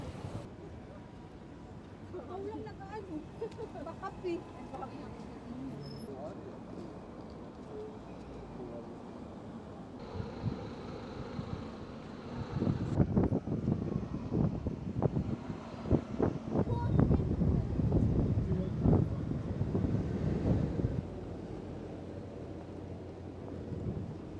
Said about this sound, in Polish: dzisiaj wiatr nam trochę przeszkadza.